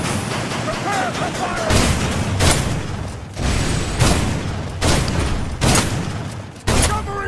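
Gunfire in the video game Snowbreak: Containment Zone: loud, close bursts of shots and booms come every second or so, with a voice heard between them.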